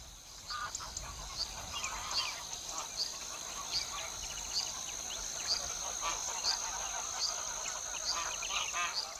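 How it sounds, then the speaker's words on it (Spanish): A flock of wild geese, ancestors of domestic geese, honking repeatedly, many overlapping calls in a busy, steady chorus at moderate distance. "Estos gansos son los ancestros de nuestros gansos domésticos."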